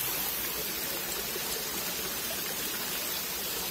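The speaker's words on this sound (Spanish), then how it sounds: "por aquí tenemos los chorritos de agua" Spouts of water running from a fountain at the Covadonga monastery, a steady close hiss of splashing water without pause.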